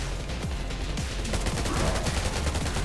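Rapid gunfire in the shooter game Undawn, repeated cracking shots in quick bursts, loud and close, with no one speaking.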